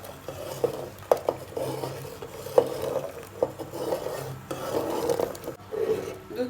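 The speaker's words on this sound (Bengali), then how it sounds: "দুধগুলোকে অনবরত নাড়তে থাকবেন যাতে এটা উতলিয়ে না পড়ে।" Milk is stirred steadily in a pot on the stove for caramel egg pudding. A spoon scrapes and rubs rhythmically against the metal, with soft repeated strokes and a few light clinks, close and fairly quiet.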